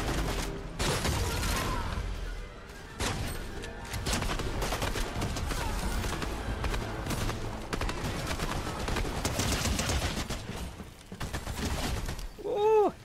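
Sustained weapon fire from the Fortnite video game rattles in dense, loud bursts for most of the stretch, with brief gaps between volleys and a short chirpy tone near the end.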